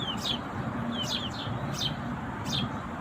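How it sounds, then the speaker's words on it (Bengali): Young Fayoumi chicks chirp in short high repeated peeps, four or five quick calls spaced about half a second apart, faint and near, over a soft rooftop garden background. "ফাউমি মুরগির বাচ্চা।"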